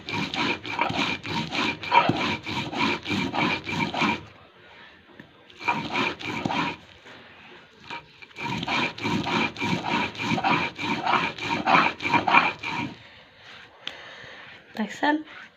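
Spices are ground by hand on a grinding stone in repeated bursts of rhythmic scraping and rubbing, each lasting several seconds, broken by short pauses, with someone speaking between and over the strokes.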